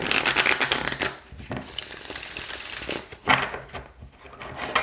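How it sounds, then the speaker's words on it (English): Tarot cards are shuffled in quick riffling bursts, crisp and close, with brief pauses between rounds. "let's go ahead and shuffle, and then what I'll do is I'll pull a card"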